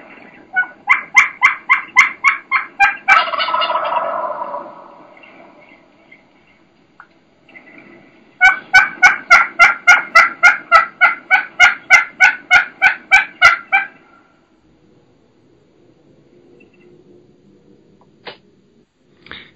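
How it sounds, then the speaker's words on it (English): Wild turkey gives rapid, aggressive yelping in two long bursts of sharp, evenly spaced calls, loud and close, separated by a raspy call and a quiet stretch with a few faint clicks. "kind of aggressive yelping"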